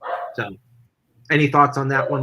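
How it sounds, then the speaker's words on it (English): A dog lets out a couple of quick barks in the background, then a person starts talking over the room. "if you hear my dog bark in the background"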